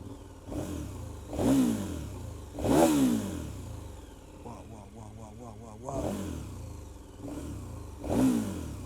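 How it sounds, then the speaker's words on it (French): A KTM 1290 Super Adventure motorcycle engine revs in repeated rising bursts, its exhaust blaring with a throaty rasp; a voice talks briefly between revs. "le bruit du moteur, enfin le bruit du pot, il pue la merde."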